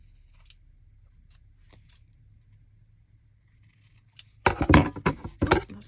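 A few sharp scissor snips through paper scraps near the end, several quick cuts close by after a mostly quiet stretch with faint rustling.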